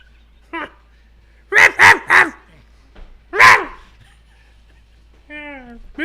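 A puppy dog in a radio studio barks in a quick burst of three sharp yips, then once more a moment later, close to the microphone, with a short whine at the end and a quiet room between.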